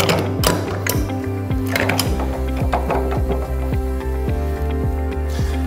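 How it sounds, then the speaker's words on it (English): A wheel is locked with a quick nut onto the center post of a Rotary KENDO.EVO tyre changer: a close, steady run of sharp ratcheting clicks over a constant low mechanical hum. "Now we can lock it with a quick nut."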